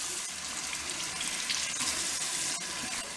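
Water streaming from a kitchen faucet fitted with an aerator, a soft, steady splashing hiss into the sink, close and continuous for a few seconds with no voices.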